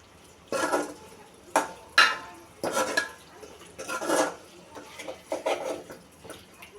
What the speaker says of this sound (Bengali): মশলার সাথে আর একটু কষিয়ে নিচ্ছি।